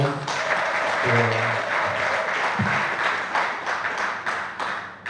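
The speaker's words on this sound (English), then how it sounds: "they deserve a round of applause." An audience at a closing ceremony breaks into dense, sustained applause that carries on throughout, with voices murmuring underneath.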